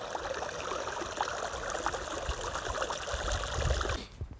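Water runs down a channel at hot springs, a steady close trickling rush with dense broadband texture that cuts off abruptly near the end.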